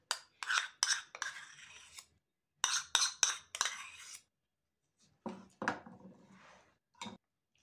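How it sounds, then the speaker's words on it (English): A spoon clinks and scrapes in a bowl while coleslaw is mixed with mayonnaise and lemon juice, in short bursts of rapid clatter separated by brief pauses. "Mix it all well."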